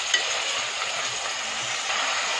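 Mutton sizzling and frying in a pan, a steady close hiss with faint stirring scrapes throughout the short stretch.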